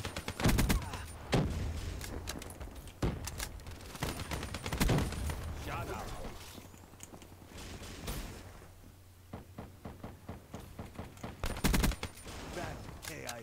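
Man O' War rifle fire in Black Ops 3 multiplayer: repeated bursts and single sharp shots, loud and close, spread across the whole stretch with brief gaps between volleys.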